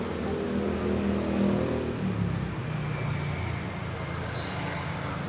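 Motorcycles and scooters fill a Bangkok street with a steady traffic drone, one engine revving close by early on before easing into a continuous background rumble.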